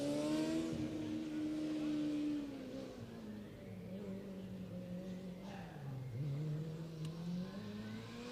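Cerber Motorsport C10 combustion race car at a student Formula endurance session, its engine note rising and falling through shifts and corners, moderately distant and fading slightly, with tire and wind noise.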